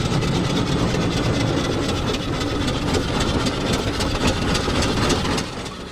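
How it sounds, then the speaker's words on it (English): A Ransomes steam tractor pulls a Ransomes ride-on plough in a demonstration, giving a close, steady, rhythmic mechanical chuffing and rumble that runs without a break. "The combination being demonstrated here is a Ransom steam tractor, and it's pulling a Ransom's ride-on plough."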